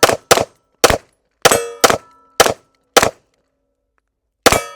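Eight loud, close pistol shots from a carry handgun, sharp cracks with ringing tails. The first few come in quick succession, then a steady cadence, then a longer pause before the last shot.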